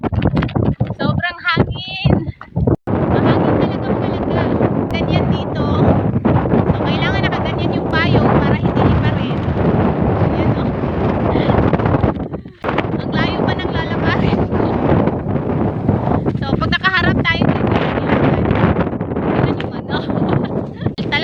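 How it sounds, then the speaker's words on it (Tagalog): Strong, cold wind roars and buffets the microphone almost continuously on a walk toward a highway, with a brief lull near the start and another midway, and people talking under the gusts. "malamig talaga yung hangin"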